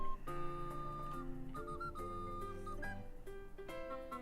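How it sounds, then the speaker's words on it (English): A recorder with a thin, tinny tone like a penny whistle plays a continuous melody of held and stepping notes at a steady, fairly loud level, with no voices over it. "I think it is a recorder"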